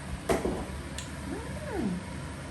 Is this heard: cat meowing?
yes